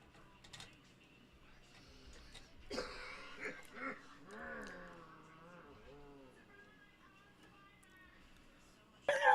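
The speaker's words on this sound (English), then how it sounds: "I heard that cough." A person coughs and clears their throat several times during a live stream of a Mould King Super Star Destroyer build. The coughs are mixed with wheezy breaths and murmured talk, and a loud burst comes at the end.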